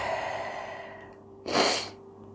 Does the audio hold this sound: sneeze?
yes